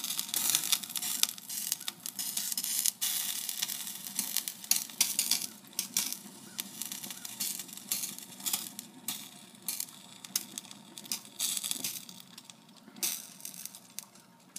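Plastic HMSHost swipe cards burning in a fire, a steady crackling, sizzling hiss with sharp little pops scattered throughout, close and moderately quiet, with no talking.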